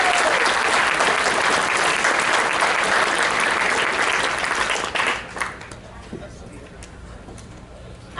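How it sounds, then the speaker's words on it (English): Loud, dense applause from a convention crowd thanking dealers and artists at a furry convention's closing ceremonies, sustained for about five seconds before tapering off into scattered claps and room murmur. "give a round of applause to our dealers and artists."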